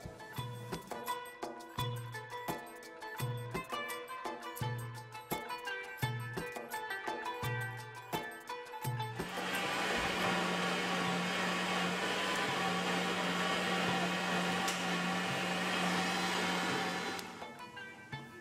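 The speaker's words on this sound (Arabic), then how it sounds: "احنا بدنا نخلط الجميد بالخلاط" Electric blender whirring as it mixes jameed, the dried yogurt for Jordanian mansaf, starting after a stretch of rhythmic background music and running as a loud, steady grinding roar for about eight seconds before cutting off.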